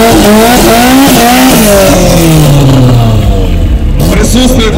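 A Toyota Cresta drag car with a 2.5-litre turbo engine launches loudly, its engine roaring and sweeping up through the revs, dropping briefly between gears, with tire noise and a trackside announcer talking underneath.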